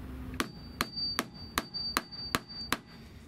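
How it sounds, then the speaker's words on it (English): A metal cable ferrule on a C4 Corvette hood release cable is hammered flat on a brick: seven crisp, evenly spaced metallic strikes in a steady rhythm, close and clear with no talking. "You just hammer it down until it gets kind of flat like that"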